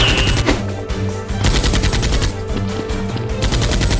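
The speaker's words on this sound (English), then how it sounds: "The two exchange gunfire until SEAL X kills him." Rapid bursts of gunfire sound effects in a staged Nerf war shootout between a SEAL character and robbers, loud machine-gun volleys crackling in quick repeated strings, dense and continuous with no talking.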